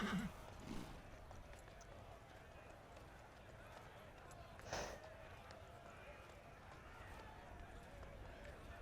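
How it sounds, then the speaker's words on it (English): Horses whinny and hooves clip-clop amid a busy Dragon Age: Inquisition game soundscape during a parade, with a brief louder neigh midway and murmuring voices in the background. "Fancy horses!"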